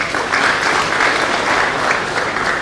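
An audience at a university registry in-house lecture gives a lecture speaker a round of applause, a steady, moderately loud burst of many hands clapping throughout.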